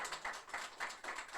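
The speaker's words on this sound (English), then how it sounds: "can you just give her a round of applause" A live audience claps for a guest at a book launch, a short burst of fairly faint, steady applause.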